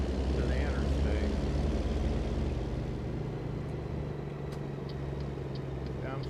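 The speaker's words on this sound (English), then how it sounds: "I like to hear my truck" Low, steady engine drone of a truck cruising on the highway, heard from inside the cab, a constant rumble with faint road noise and no talk over it.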